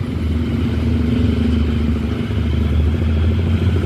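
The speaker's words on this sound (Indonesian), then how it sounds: "Ini ada molen juga naik ke atas, jadi itu untuk akses keluar masuk kendaraan." A cement mixer truck climbs a ramp at the Padalarang high-speed rail station construction site, its engine giving a loud, steady rumble that holds throughout with no pauses.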